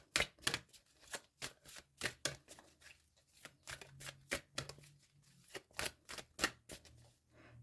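An angel card deck being shuffled and a card drawn, soft close-up papery riffles and slaps in an irregular quick rhythm, fairly faint throughout.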